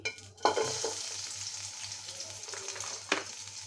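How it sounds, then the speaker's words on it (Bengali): Chopped onions frying in just a little oil, a steady close sizzle that rises sharply at the start and carries on evenly, with a couple of brief stirring knocks and no talk. "সামান্য ফোটা তেল দিব এতে তেল দিলে নাতিয়ে যাবে দিয়ে দেবো আমি পেঁয়াজ কুচি"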